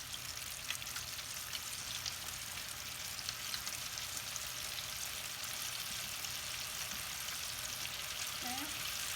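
Floured homemade chicken nuggets frying in hot oil, a steady close hiss and sizzle with fine crackle running throughout, a brief voice near the end.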